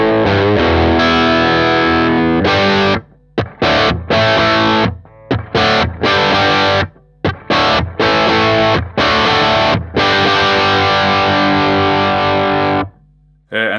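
An electric guitar plays through a Cornford Roadhouse 30 1x12 combo amp set to a crunchy overdriven tone: sustained distorted chords broken by short choppy stabs and gaps, loud and close with no voice.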